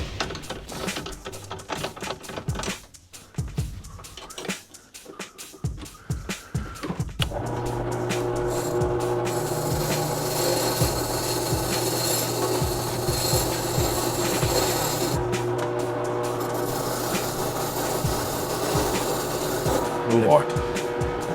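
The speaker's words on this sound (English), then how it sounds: "I'll grind this down with a wire wheel" Wire wheel grinding corroded plating on a snowblower gas tank: after scattered handling noises, a continuous close, loud abrasive whir and rasp runs steadily for over ten seconds with slight variations.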